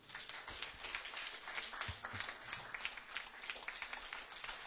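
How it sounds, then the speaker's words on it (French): A church congregation applauds during a Sunday praise service, with dense, continuous clapping throughout, moderately loud and sustained without pause. "Applaudissez le Seigneur."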